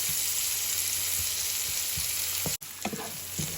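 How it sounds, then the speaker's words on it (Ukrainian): Onion frying in a pan, a steady bright sizzle running throughout with a brief cut near the end, no talk. "І запускаємо на сковорідку цибулю"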